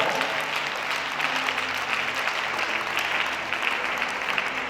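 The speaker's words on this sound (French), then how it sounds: "Si tu veux acclame encore très bien pour Jésus" A congregation at a French-language worship service applauds for Jesus, a dense, steady wash of clapping from many hands that fills the whole stretch without pause or spoken words.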